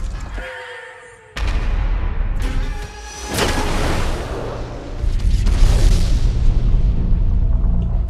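Several cartoon-style explosions from a Lego Ninjago animation, deep booms that burst in one after another and rumble on, mixed with a splashing wash of noise.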